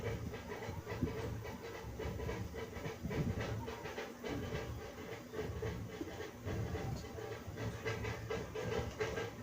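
Peeled drumsticks sautéing in a spice masala for a village-style drumstick curry, giving a steady broad sizzle and hiss with irregular scraping stir noises throughout, fairly loud and close, with no talk.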